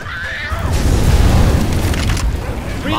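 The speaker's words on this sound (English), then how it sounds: "Hey, fire's coming." A Molotov fire erupts with a loud low whoosh and rumbling boom in the Left 4 Dead 2 game, swelling quickly then trailing off, with brief voice sounds at the start and end.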